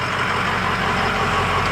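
A 2005 Ford 6.0 Powerstroke diesel 4x4 truck idles on a cold start through a 4-inch straight-pipe exhaust, giving a loud, steady, rumbling drone with no voices.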